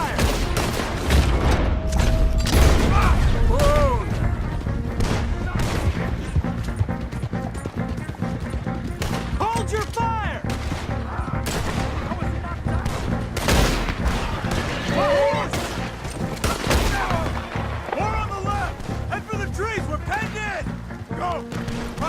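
A Red Dead Redemption 2 shootout with continuous loud gunfire. Rapid overlapping shots and booms run throughout, with hoofbeats and shouted voices over the top.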